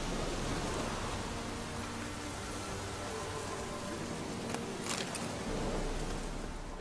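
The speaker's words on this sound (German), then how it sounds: "Es ist doch nur Regen." Steady rainfall in The Witcher 3, a continuous hiss of drops on surfaces with a faint, brief crackle near the end, constant and fairly quiet with no talk.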